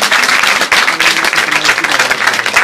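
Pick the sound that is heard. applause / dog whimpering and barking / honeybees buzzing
applause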